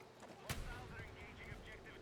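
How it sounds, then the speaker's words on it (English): Explosions destroying a building in the video game Battlefield 6: a sharp blast followed by rumbling debris and secondary bangs, fairly quiet within the game mix. "Blew up everything. Secondary explosions."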